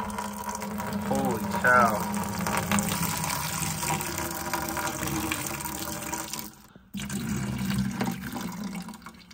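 Dirty water from cleaning an AC evaporator coil is dumped out in a steady, rushing splash and gush under a brief exclaiming voice, cutting off for a moment before pouring on.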